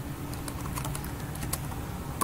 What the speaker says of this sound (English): Let me type back this.